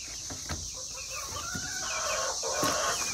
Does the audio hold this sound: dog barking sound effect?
no